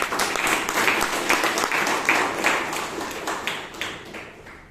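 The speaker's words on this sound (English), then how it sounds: "Let us give a lot of applause for both speaker and evaluator." An audience at a Toastmasters meeting in Bangalore breaks into steady applause, dense overlapping claps holding for several seconds before gradually thinning and fading out.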